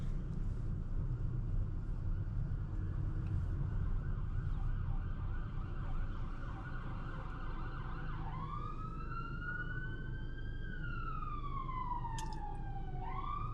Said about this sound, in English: here we are with emergency vehicles coming from the opposite side of the road because it was packed